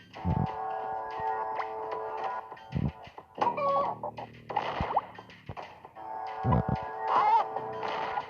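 Cartoonish chicken clucks from the Bomb Chicken video game come in short bursts over tonal game music, repeating several times across the stretch.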